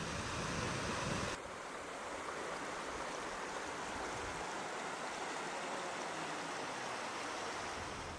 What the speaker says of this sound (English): I also found a small river, and I tried to record the sound from various distance.